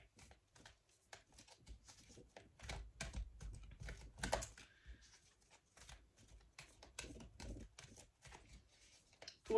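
Tarot cards are shuffled for a reading, a faint, quiet patter of quick papery clicks and flicks in irregular bursts, close by with no talking.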